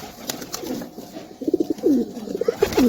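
A Madrasi pigeon coos close by in short, throaty, pulsing bursts that grow louder and more rhythmic toward the end, with faint background noise between calls.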